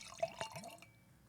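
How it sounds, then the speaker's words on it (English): 2023 Frank Family Carneros Chardonnay is poured into a wine glass close by, a faint, brief liquid trickle with a few soft drips that fades within a second. "So we're pouring the 23 Carnero Chardonnay, Frank Family."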